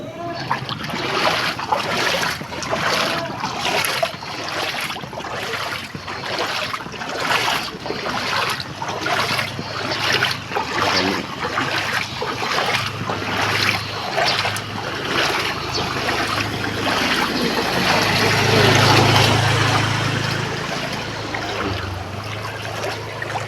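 High-tide floodwater in Bulacan sloshes and trickles continuously, with rhythmic lapping and splashing nearby against a breezy outdoor background, and faint voices occasionally present.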